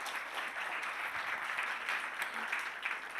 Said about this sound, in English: Let's give him a bit of round of applause.